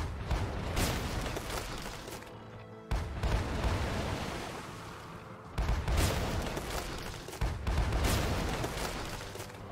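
Cannon fire from sailing ships in the naval battle game Sailing Era: loud, dense rumbling barrages that roll continuously, with heavy booms landing about every few seconds and no voices.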